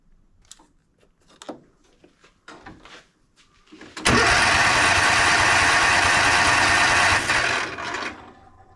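A zero-turn mower engine cranks without starting, a loud, steady grinding drone of about three seconds that follows a few quieter knocks and handling noises, then stops.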